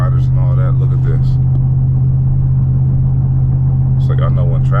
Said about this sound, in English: There's hella cars and lowriders and all that.